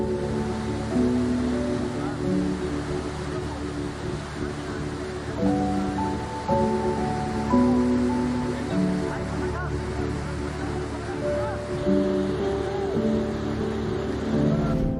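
Rushing water of a flooded river, a broad steady roar that fills the whole stretch, with fainter tonal sounds and voices drifting underneath.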